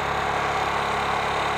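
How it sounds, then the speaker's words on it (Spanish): A motorcycle engine runs fast at idle with no throttle applied, its idle speed set too high on the carburetor; a steady, loud, even drone holds throughout with no voices. "ya que la moto está muy acelerada"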